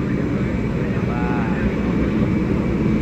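A state aircraft waits on the apron at Halim Perdana Kusuma airbase in Jakarta, its engine giving a loud, steady, continuous roar with a brief faint whine rising partway through.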